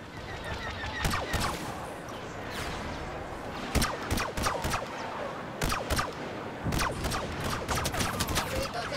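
Blaster fire in Star Wars Battlefront (2015) cracks out as sharp, separate bursts of shots over a busy battlefield bed, with a voice speaking faintly in the background.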